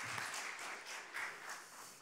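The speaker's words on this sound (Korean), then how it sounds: "영광의 박수를 하나님께 드리겠습니다." Applause from a congregation during a Sunday worship service at a church in Daegu, a soft, steady wash of many hands clapping that sounds distant and muted for about two seconds.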